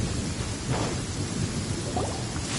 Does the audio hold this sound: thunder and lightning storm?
yes